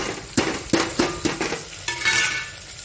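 Turmeric, asafoetida and tomatoes hit hot oil in a home kitchen pan, with a few sharp spoon clinks against the metal, then a steady hissing sizzle that builds near the end.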